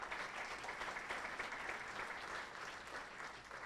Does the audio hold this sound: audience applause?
yes